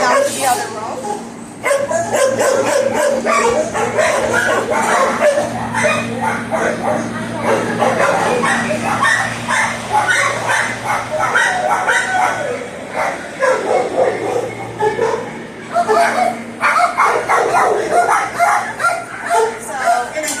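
Dogs in humane society kennels barking, yipping and whimpering almost continuously, with a steady mechanical hum underneath and people talking among the noise.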